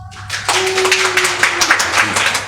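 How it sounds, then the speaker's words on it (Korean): Clapping from a Korean church congregation during a Sunday service, a short burst of scattered hand claps rising under a sustained tone and faint talk. "박수 한번 쳐주세요"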